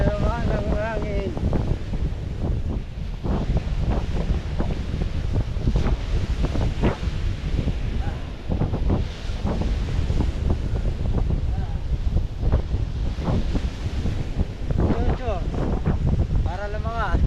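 Strong wind buffets the microphone steadily throughout, a constant roar with gusty rumble underneath.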